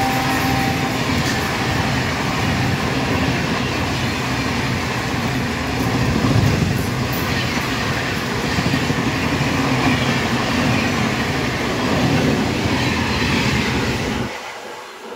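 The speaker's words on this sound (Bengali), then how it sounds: "একের পর এক এক্সপ্রেস ট্রেন গুলো বেরিয়ে যাচ্ছে।" Express trains on an Indian railway line near Hyderabad-to-Bihar route roll past one after another, a loud, steady rumble of wheels and carriages with rhythmic clatter close by, continuous throughout before cutting off abruptly at the end.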